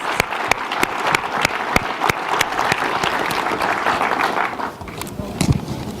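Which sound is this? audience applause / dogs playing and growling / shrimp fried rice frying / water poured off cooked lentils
audience applause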